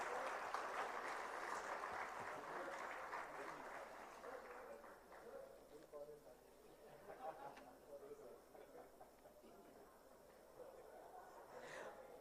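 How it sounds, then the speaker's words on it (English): Applause from the audience at an institute's Foundation Day celebration swells and then slowly fades over several seconds. It sounds distant and fairly faint, with crowd chatter mixed in and rising as the clapping dies down. "a big round of applause,"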